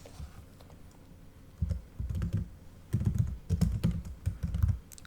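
Answers are typed on a computer keyboard in a quiet ASMR setting: after a soft pause, close, crisp bursts of rapid key taps come in uneven clusters.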